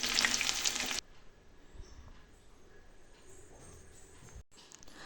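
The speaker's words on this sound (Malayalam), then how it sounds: "ചെറുതായിട്ട് അരിഞ്ഞു വെച്ചിരിക്കുന്ന ചെറിയ ഉള്ളി ചേർത്ത് ഒന്ന് മൂപ്പിച്ചെടുക്കാം." Chopped small onions fry after mustard seeds in a pan, a loud sizzle bursting for the first second, then dropping to a faint, low crackle with light stirring underneath.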